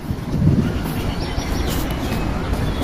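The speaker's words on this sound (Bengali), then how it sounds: "এটা যে ট্রেন যাচ্ছে অনেক কাছ থেকে আমরা ট্রেন দেখতে পাচ্ছি" Train rolling close past a platform at a busy railway station, a steady loud low rumble with rushing wind noise filling the whole stretch and no talk.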